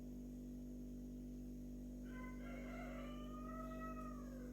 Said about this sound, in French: Il y a le coq.